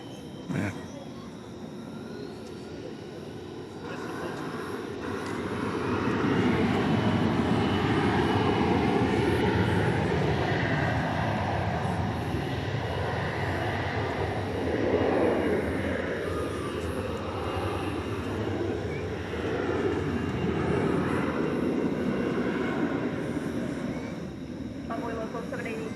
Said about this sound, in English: Our Qatar Airways takeoff on 1543.